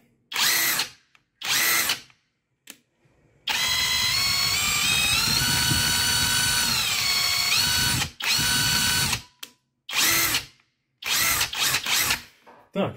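A Stromo AWA20 cordless impact wrench runs after a controller replacement: short bursts, then a long steady whirring run of several seconds, then more brief bursts, loud and close, with no talk over it.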